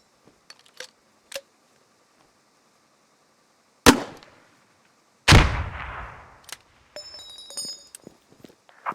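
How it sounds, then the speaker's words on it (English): Two heavy shots from a 40mm underslung grenade launcher fired in Squad, each a sharp loud blast with a decaying rumble, the second blast longer, surrounded by small clicks of weapon handling. "Grenadiers in your squad carry a grenade launcher slung under their primary weapon. These fire 40mm grenades"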